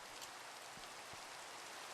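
Steady rain in Minecraft, a dense, even hiss of falling drops with a couple of faint low thumps, continuous and close throughout.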